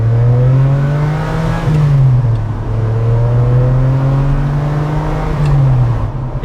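Ferrari 456M GT V12 pulling hard under acceleration, a loud, smooth engine note climbing steadily through gears with brief dips at the shifts, heard from inside the car.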